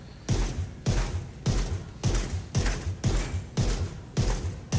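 G28 marksman rifle firing in The Division 2, about nine evenly spaced heavy shots roughly half a second apart, each a loud close thump with a brief ringing tail.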